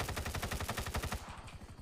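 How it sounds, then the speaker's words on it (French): Rapid automatic gunfire in a multiplayer shooter, a steady burst of closely spaced loud shots for over a second, then fading into a brief echoing tail; no talk. "Du coup, je vais t'abattre, Loli, c'est bon?"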